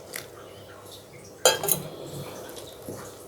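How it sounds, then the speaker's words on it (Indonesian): A spoon clinks and scrapes inside a bowl while bread dough with warm water is stirred, a sharp knock near the middle followed by softer stirring and light wet sounds, close and moderately loud. "Aduk-aduk perlahan aja dulu ya, sampai semuanya tercampur."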